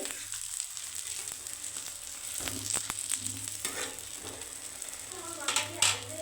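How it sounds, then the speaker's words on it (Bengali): Eggplant slices frying in hot oil over a low flame for an eggplant and egg omelette, giving a steady soft sizzle throughout with a few faint clicks and scrapes. "এই যে বেগুনটা কিন্তু তেলে সুন্দর হ্যাঁ বেশ ভাজা হয়ে যাচ্ছে দেখ"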